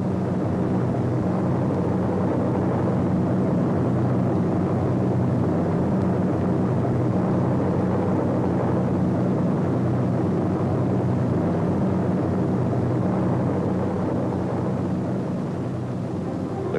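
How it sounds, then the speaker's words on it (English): World War II tow planes pulling gliders toward the Normandy landing zone on D-Day, June 6, 1944: a steady, loud, droning roar of aircraft engines that holds without a break throughout. "Gliders cut loose from their tow planes."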